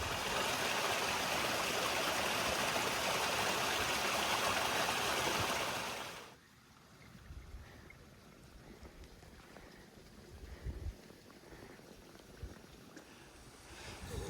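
A mountain waterfall stream in the White Mountains near Mount Washington rushes loudly and steadily for about six seconds, then drops suddenly to a fainter, softer flow with scattered bumps and rustles.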